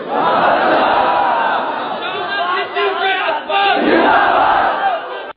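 Large crowd at a religious gathering loudly chanting slogans in unison, a dense roar of many voices that swells and dips, sustained and close throughout.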